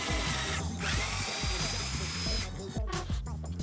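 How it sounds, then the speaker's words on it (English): A power drill whirs in a loud, continuous burst while drilling pocket holes in wood trim stock held in a pocket hole jig, then spins down and briefly revs again, close by, with faint clicks underneath. "I set the stock in the pocket hole jig and I drill the holes."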